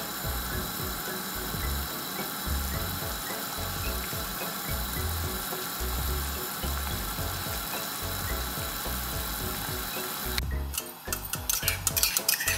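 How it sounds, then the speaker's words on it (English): Pumpkin dal boiling in a pan on high heat gives a dense, continuous bubbling and popping, close and steady, with sharper rattling toward the end and no voices. "Turn up the heat and allow the pumpkin dal to boil and bubble."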